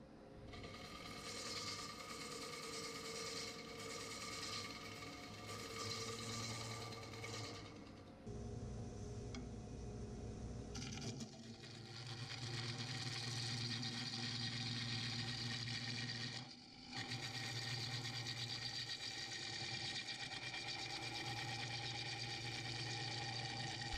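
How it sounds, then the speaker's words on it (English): A 5/8 bowl gouge cuts a segmented wood bowl on a lathe, giving a steady whirring, scraping hiss under the motor hum. It breaks off briefly twice and then resumes, close and alone. "Right here I'm using my robust Turner's Edge 5/8 bull gouge"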